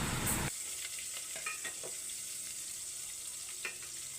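Garlic, onion and ginger are stirred in a hot pan, with a brief loud burst of sizzle at the start giving way to a soft steady fry and scattered scraping clicks of the utensil, close and alone.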